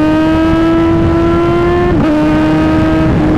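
A high-revving 1000cc supercharged naked motorcycle engine holds a loud, steady whine near its peak around 6,000 to 7,000 RPM, dipping briefly once before climbing again, very close and continuous.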